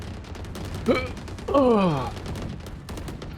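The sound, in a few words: gunfire in CS:GO video game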